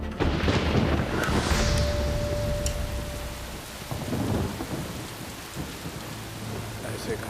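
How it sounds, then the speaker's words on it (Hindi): Heavy rain pours down steadily while deep thunder rumbles roll through, loudest at the start and easing into a continuous wash of rain. "उस दिन जोर की बारिश हो रही थी।"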